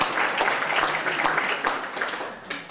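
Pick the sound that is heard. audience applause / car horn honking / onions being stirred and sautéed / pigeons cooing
audience applause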